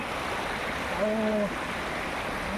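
Barbakhara waterfall in Bargarh district, Odisha, gives a steady broad roar of rushing water throughout, with a short tonal call rising briefly above it midway.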